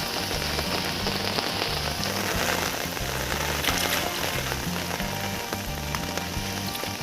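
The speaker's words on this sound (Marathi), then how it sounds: "पाऊस पण आलाय" Steady monsoon rain patters on a surface in the Konkan countryside throughout, a dense hiss with a rhythmic low thumping underneath.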